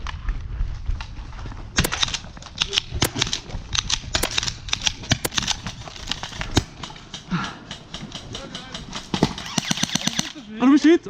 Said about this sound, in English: First I blast both of those guys away with one BB shower